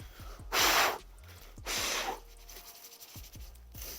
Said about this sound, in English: I apologize in advance for all the nose sniffles